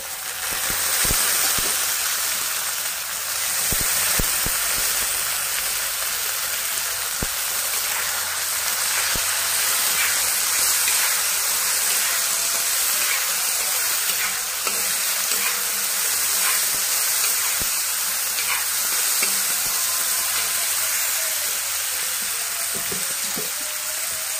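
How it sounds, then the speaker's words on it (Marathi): Soaked toor dal goes into a pan of browned onions while cooking ghol bhaji, setting off a steady, close hissing sizzle with bubbling crackle and a few scraping clinks, lasting well over twenty seconds. "आता आपण भिजवलेली तूर डाळ टाकून घेऊ।"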